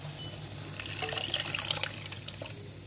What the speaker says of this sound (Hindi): पहले से उबली हुई हल्दी और नमक डाली हुई तुअर दाल हम डाल देंगे